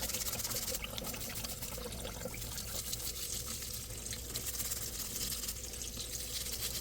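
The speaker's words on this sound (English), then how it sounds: "I'm just gonna wash my hands" A tap runs steadily while hands are scrubbed with soap under it, a close, continuous splashing and trickling of water with no speech.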